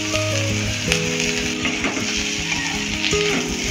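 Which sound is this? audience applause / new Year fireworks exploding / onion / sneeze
onion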